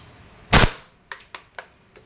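A WE 2011 Hi-Capa T-Rex airsoft pistol fires a single sharp, loud shot at close range, followed by several faint mechanical clicks and taps.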